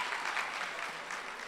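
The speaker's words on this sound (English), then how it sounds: "could you give another round of applause to that last group?" An audience at a coffeehouse performance event gives a brief, fairly faint round of applause, steady clapping over a second and a half.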